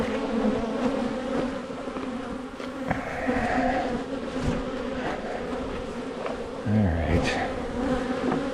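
A dense, steady buzzing of many honeybees around a hive during an inspection surrounds the listener up close, continuous throughout with a few brief louder passes.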